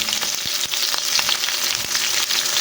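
Hot oil crackles and spits steadily as white onions fry in a pan for squash in coconut milk, a dense close sizzle with sharp pops scattered throughout and no voices.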